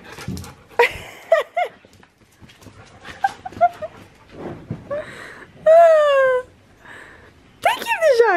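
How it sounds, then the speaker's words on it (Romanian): An excited dog pants, whimpers and yelps in short, uneven bursts, close by, amid happy greetings during a long-weekend homecoming, with someone talking and laughing between the sounds. "Ce bucurie de cățel!"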